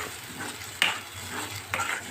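Curry leaves crackle in hot oil while tempering peanut chutney, with two sharp bursts of sizzle over a steady low frying hiss and light stirring, close by and with no voices.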